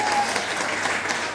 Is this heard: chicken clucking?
no